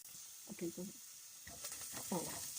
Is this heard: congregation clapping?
no